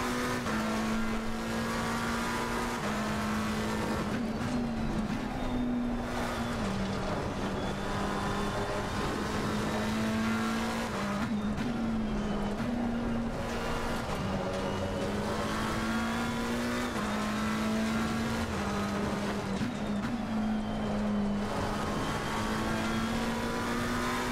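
A Ferrari race car engine in the racing game Assetto Corsa Competizione, a loud sustained drone that rises and falls in pitch through gear shifts, cornering and acceleration, continuous for over twenty seconds with no talking.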